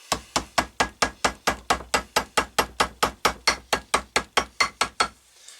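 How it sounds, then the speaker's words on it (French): A small rubber mallet taps a fork seal into place on a BMW R90S motorcycle fork, about twenty even, evenly spaced knocks in a steady rhythm, close and loud, stopping just before the end. "Petit maillet en caoutchouc."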